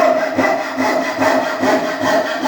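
A coping saw cuts through wood near a workbench with smooth, steady back-and-forth rasping strokes, close and continuous.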